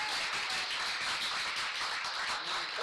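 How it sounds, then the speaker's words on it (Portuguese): A congregation claps at a youth church service in Setúbal, Portugal, a dense, steady patter of many hands held at a moderate distance without a break. "Aplauda mais forte Jesus."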